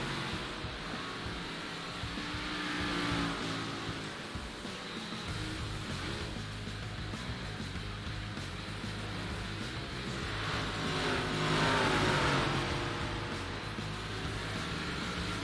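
Dirt track race cars in a sim racing esports event at I-55 roar together in a continuous, dense wash of engine noise that swells and fades slightly as the pack circulates, with no clear individual passes.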